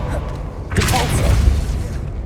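Repulso spell cast in Hogwarts Legacy on PS5, a burst of whooshing energy swelling into a deep booming thump at mid-clip, loud and close over a low rumble.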